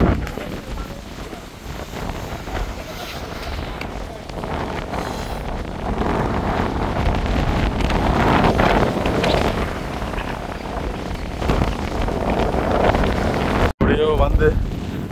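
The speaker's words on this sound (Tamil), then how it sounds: "சரியான பயங்கர காத்தா, அப்படி ஒரு காத்தையா." Strong wind buffets the microphone at Sigiriya rock in Sri Lanka, a continuous loud roaring rush with gusts swelling and easing throughout, and a brief dropout near the end.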